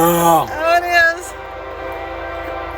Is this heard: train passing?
yes